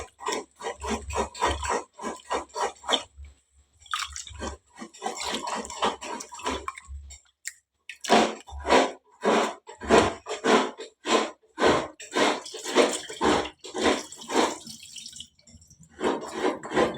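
Soaked rice for Kannada-style pumpkin neer dosa being washed by hand in water, with repeated rhythmic sloshing and swishing strokes, close and fairly loud, in bursts with short pauses and no talking.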